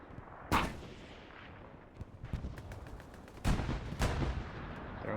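Heavy grenade blasts in Hell Let Loose boom out at close range, two large bursts standing out amid scattered distant gunfire and battlefield rumble.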